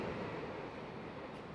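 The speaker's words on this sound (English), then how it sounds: "it's pouring buckets outside" Heavy rainy-season rain pours outside in Cambodia, a dense, steady wash of noise with no breaks and no talking.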